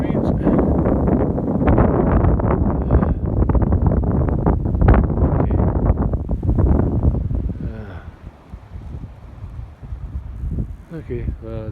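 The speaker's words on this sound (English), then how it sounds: "the wind's still pretty strong, but it's from the south." Strong outdoor wind batters the microphone with loud, steady buffeting rumble on a farm, easing somewhat toward the end with lighter gusts.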